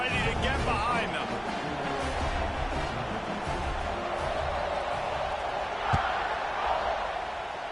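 A stadium crowd roars steadily at kickoff in NCAA Football 26, a dense sustained wall of cheering while a commentator speaks over it.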